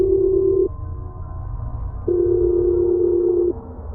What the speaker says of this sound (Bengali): হাত বাড়িয়ে রিসিভার তুলে নিয়ে জুড লরেন্সকে ফোন করলাম।